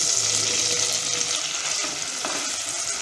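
Pieces of paneer fry in hot oil in a pan, a dense, steady bright sizzle heard up close and alone, without any talk.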